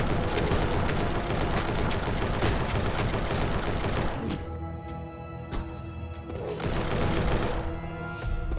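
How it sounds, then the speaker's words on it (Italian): Rapid automatic gunfire in the video game Collapsed, a dense loud burst of shots for about four seconds, then shorter scattered bursts and game effects. "E spari a raffica, ma fa veramente poco danno."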